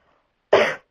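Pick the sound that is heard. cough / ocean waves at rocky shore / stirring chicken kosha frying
cough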